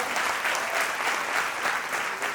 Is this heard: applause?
yes